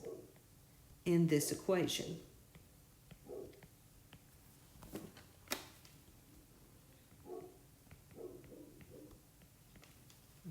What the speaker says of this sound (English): You can hear my dog outside barking.